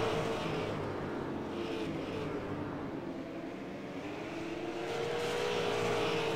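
Race cars circle an oval short track at the Las Vegas Bullring in a SARA racing event, their engines a continuous loud roar with a faint whining pitch that rises and falls as cars pass, with no voices.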